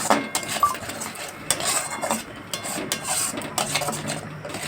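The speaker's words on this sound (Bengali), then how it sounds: "এখন ভালো করে কষিয়ে নিতে হবে" Kakrol stuffing paste seasoned with salt and turmeric is stirred and sautéed in a pan, with a steady run of close metal-spoon scraping and rubbing against the pan.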